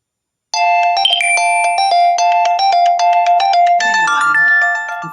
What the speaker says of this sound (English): I forgot to put the mute on the phone.